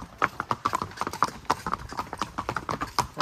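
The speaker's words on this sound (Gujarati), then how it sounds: "અમે બે અત્યારે ઘોડા ઉપર છીએ" Horses' hooves clip-clop in a quick, uneven rhythm during a horse ride at Matheran, the sharp clops close and fairly loud, with faint voices in the background.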